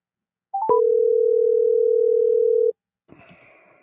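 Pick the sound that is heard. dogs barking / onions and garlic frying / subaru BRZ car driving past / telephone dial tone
telephone dial tone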